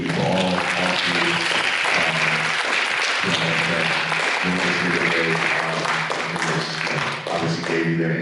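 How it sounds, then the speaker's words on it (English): A large audience at a basketball product panel applauds the three panelists, with dense, sustained clapping throughout and a steady background of talk and music running underneath. "Round of applause, excuse me, for all three"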